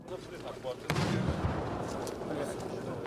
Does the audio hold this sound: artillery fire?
yes